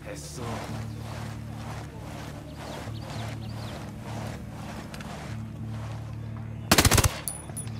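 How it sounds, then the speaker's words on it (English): Submachine gun fire in Ghost Recon Wildlands at a church, with steady rhythmic bursts over low ambient rumble, then a loud, close, sharp burst near the end. "Heads up, narco with a submachine gun."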